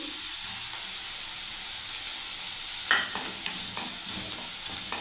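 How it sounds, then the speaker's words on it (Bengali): Garlic paste and onion paste fry in a pan for a mixed vegetable curry, a continuous close sizzle with a sharp spatula scrape partway through and lighter stirring strokes afterward. "ভালো করে আবার ভাজতে থাকবো বন্ধুরা 2 মিনিট। দেখুন বন্ধুরা রসুন পেস্ট পেঁয়াজ পেস্ট হয়ে গেল।"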